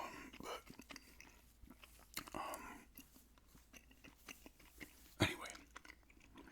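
Gum is chewed close to the microphone in an ASMR recording, with moist irregular smacks and crunchy bites scattered between pauses. A voice briefly speaks in a soft tone.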